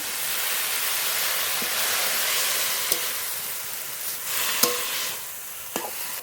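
Water poured into a hot pan of prawn malai curry cooked with milk powder, giving a loud, steady hiss and sizzle with a few faint clinks of utensils over the bubbling.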